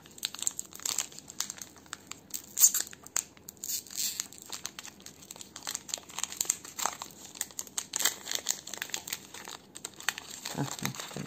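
A Pokémon booster pack wrapper crinkles and tears close up in quick, irregular bursts, fairly quiet overall, with a voice speaking briefly near the end.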